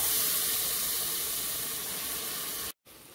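Brinjal cut into triangles and small potato pieces sautéing over medium heat in a pan, a steady close hiss of frying that holds level, drops out briefly near the end, then resumes more softly.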